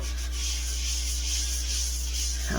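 Yorkshire Grit abrasive rubbing against a spinning maple burl on a wood lathe, a steady airy hiss of friction over a low motor hum, close and continuous.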